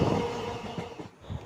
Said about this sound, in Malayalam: നമ്മുടെ വണ്ടി അങ്ങനെ കറുകുറ്റി റെയിൽവേ സ്റ്റേഷനിൽ എത്തിയിരിക്കുക കേട്ടോ